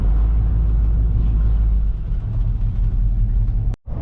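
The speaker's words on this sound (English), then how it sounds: "Trent let me drive up in here." A Chevrolet Bel Air's engine rumbles steadily and loudly as the car is driven into a sprawling auto salvage yard in Sunset, Texas, with a brief sudden dropout near the end.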